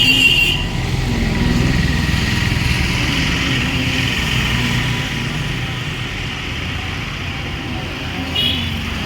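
A small motorcycle carrying three riders runs at a steady, loud close-range engine drone that hums continuously over road noise, with no talking.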